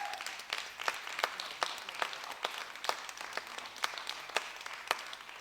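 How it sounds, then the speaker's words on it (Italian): A sparse audience at a Neapolitan talent event applauds for the artistic director, with individual distinct claps spaced out over a soft background patter, fairly faint and distant. "al quale facciamo un grosso applauso"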